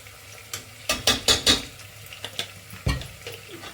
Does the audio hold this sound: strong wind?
no